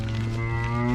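A friendly cow in a farm paddock lowing, one sustained deep moo close by with a rich harmonic tone, filling the short moment alone.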